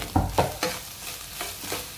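Greens tempered with spices sizzle and get stirred in a hot pan, with a few distinct scraping stirs early on over a steady soft frying hiss, close and alone.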